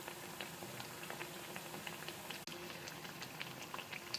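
Protein-rich vadas bubble and crackle in hot oil with a steady, quiet frying hiss and scattered small pops and patters, no voices present.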